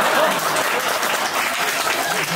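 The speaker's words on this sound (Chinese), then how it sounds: "谁给他鼓掌？" An audience at a crosstalk comedy show in a Sanlitun theater claps loudly and continuously after a tongue-twister routine, a dense, even round of applause with faint voices mixed in.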